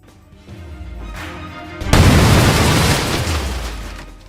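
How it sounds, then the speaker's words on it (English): A low rumble builds, then a sudden loud explosive blast erupts and roars on as an airliner crashes into the ground, slowly fading into a deep, heavy rumble. "the aircraft crashed into the ground, causing a massive explosion"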